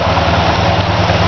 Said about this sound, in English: Ah, love that sound. Dual exhaust, screaming 318.